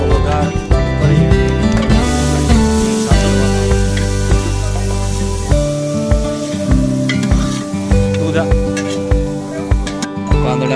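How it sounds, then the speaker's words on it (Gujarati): Asafoetida, dried chillies, cloves, cinnamon and star anise crackle and sizzle in hot oil and ghee while being stirred, with loud repeated metallic scraping and clatter in an outdoor village kitchen setting. "આની અંદર તેલ, પછી હિંગ, મરચાં, લવિંગ, તજ, બાદિયા વઘાર કરી"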